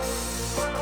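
Penetrating oil sprayed from a can onto old suspension bolts of a Honda EG Civic hatch, a short steady hissing burst, close and fairly loud.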